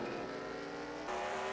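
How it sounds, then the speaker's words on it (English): Racing trucks in a racing video game drone past on a speedway, a loud steady engine whine that shifts pitch as they accelerate, with no talk. "Jack Merkel has now opened the gap back up slightly by a couple truck lengths."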